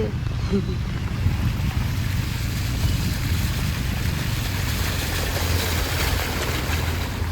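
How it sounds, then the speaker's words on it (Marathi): A heavy, dangerous flow of water rushes past as a broad, unbroken roar. It is loud and close, with wind buffeting the microphone throughout. "डेंजर पाणी आहे राव बापरे भारी किती पाणी झालं ते"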